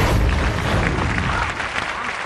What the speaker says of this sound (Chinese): 从这掌声啊，大伙儿就听出来了，比他们那一帮人都热烈